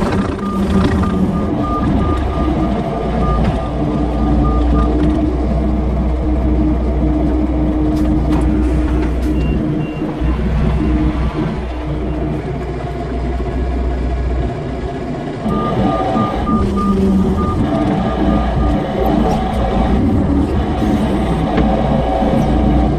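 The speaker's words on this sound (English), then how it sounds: "So the lorry's just turned up with some bedding for Nicola's horses." A heavy lorry delivering bedding idles and rumbles nearby while intermittent reversing beeps repeat in steady pulses, pausing and then returning later.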